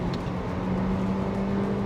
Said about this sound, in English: here's the car under full acceleration